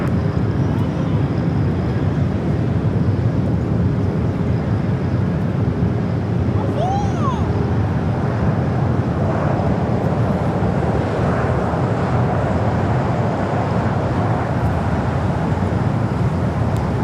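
Airliner Flight 587 lands on runway 25 left at LAX, heard as a constant, loud, broad jet and wind roar with no pauses, and a brief faint whistle rising partway through.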